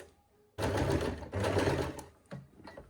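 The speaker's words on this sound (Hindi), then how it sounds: "यहाँ पर आपने ध्यान से लगानी है क्योंकि यहाँ पर हमारी चैन आएगी तो आपकी सुई है जो वो भी टूट सकती है" A sewing machine stitches a frock along a zipper, running in two close, loud whirring bursts followed by a shorter stop-start run.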